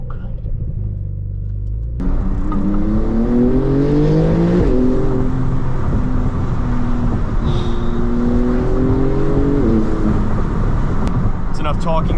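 A Porsche 911 992 Turbo S engine revs up hard from inside, a loud rising roar that climbs through several gear steps with brief dips between shifts, strong low rumble throughout.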